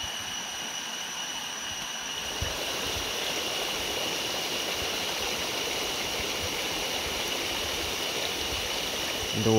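Jungle river in Thailand's Koh Lanta rushing steadily over rocks, a constant broadband wash of flowing water heard up close and fairly loud for the whole stretch, with no voices.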